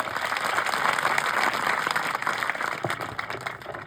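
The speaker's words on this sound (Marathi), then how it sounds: "आदरणीय घुगे सरांसाठी पण जोरदार टाळ्या" An audience at a government tribal students' hostel event in Hingoli applauds steadily, a dense wash of clapping heard at moderate distance with no voices over it.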